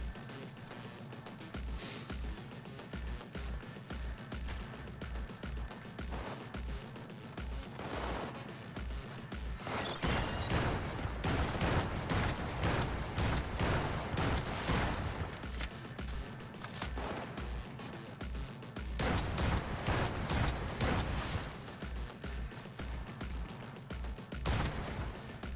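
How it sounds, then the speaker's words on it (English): Turret gunfire in the video game Cyberpunk 2077, rapid repeated shots in long rhythmic bursts, loud and sustained with denser volleys midway, over a low background drone. "I think that's probably the turret"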